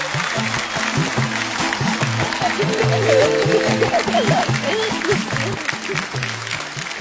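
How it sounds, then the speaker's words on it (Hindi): Audience applause for an honoured guest fills the room as a dense, steady patter of many hands, with a sustained low tonal drone running underneath throughout. "सर के लिए और जोर से तालियां प्लीज।"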